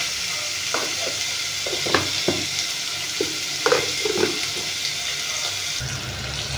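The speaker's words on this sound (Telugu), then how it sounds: "ఇవి కొంచెం వేగాలి. కొంచెం వేగనిద్దాము." Sliced bitter gourd fries in oil in a pan, giving a steady close sizzle with intermittent soft scraping and clinks as it is stirred.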